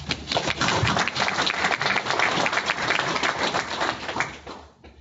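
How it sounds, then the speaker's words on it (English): Members at a credit union annual meeting applaud themselves, a full burst of crowd clapping that swells and ebbs across five seconds before fading toward the end. "give yourselves a round of applause"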